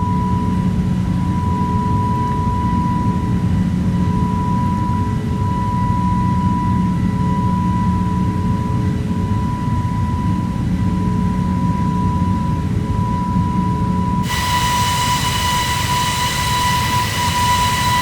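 A steady, loud aircraft engine drones throughout a climb in the video game My Flight Sim World, with a constant tonal whine and an abrupt shift in the sound near the end; no talking.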